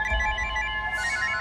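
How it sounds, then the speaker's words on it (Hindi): A telephone rings with a bright electronic tone, a short burst heard up close and alone. "प्रीतम सर का फोन"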